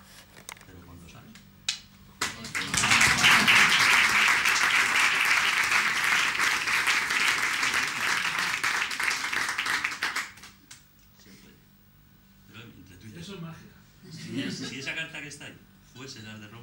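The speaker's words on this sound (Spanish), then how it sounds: "el aplauso es para ella" Restaurant diners break into loud, sustained applause for a birthday guest at a magic dinner show, a dense clatter of clapping lasting about eight seconds, with people talking before and after it.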